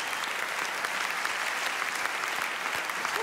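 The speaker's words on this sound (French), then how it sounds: "Bon, on peut les applaudir." A full theatre audience applauds at a live stage show: a dense, even wash of many hands clapping, fairly loud and sustained throughout with no voices on top.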